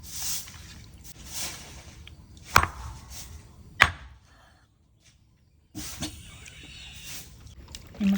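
Mutton is chopped into pieces with a few sharp, heavy blade strikes, spaced seconds apart, amid faint background rustling and a brief quiet gap.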